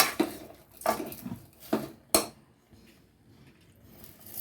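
A spoon scrapes and clinks against a metal pan in a few separate strokes while stirring rock sugar, sharp and close, then the room goes quiet.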